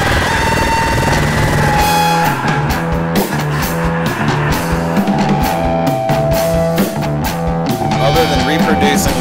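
A steady, low thudding heartbeat pulse runs beneath loud, dense rock music, a cover of a classic album, with no clear speaking voice.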